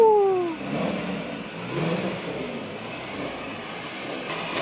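A Nissan with an SR20VE engine, driven in Mexico, revs and runs loudly, a fading rise in pitch at the start settling into a steady throaty drone close by.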